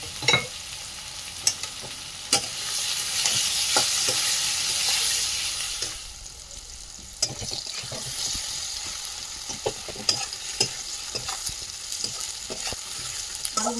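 Potato and tomato pieces frying in a pan for a mustard fish dish, a soft steady sizzle with scattered scrapes and taps of a spoon stirring, fairly quiet and close.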